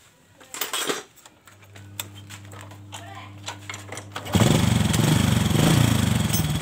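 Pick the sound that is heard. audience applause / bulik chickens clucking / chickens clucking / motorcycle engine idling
motorcycle engine idling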